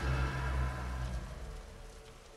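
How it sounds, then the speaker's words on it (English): Steady rain patter inside a convenience store in the video game The Convenience Store, with a low rumbling hum underneath, fairly loud at first and easing slightly toward the end; no voices. "Why is it raining in here? What the heck?"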